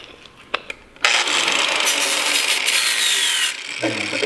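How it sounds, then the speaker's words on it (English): An angle grinder fitted with a flat disc grinds an oil pan, starting after a few faint knocks and running as a loud, harsh, continuous metallic rasp for a few seconds before the load eases and it winds down. "They sell these badass grinders. These badass flat discs."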